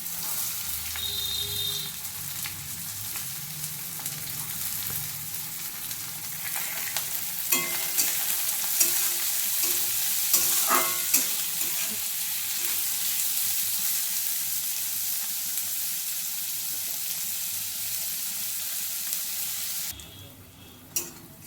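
Onions frying in a red spice masala for green-pea ghugni, a steady loud sizzle with occasional stirring scrapes of the spoon in the pan, continuing alone throughout with a brief clatter near the end.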